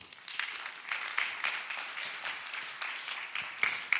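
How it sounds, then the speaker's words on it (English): Audience at a conference on digital governance claps as panelists walk up to the platform, a moderate, sustained patter of many hands with a few sharper claps standing out. "So give them all a round of applause as they make their way up."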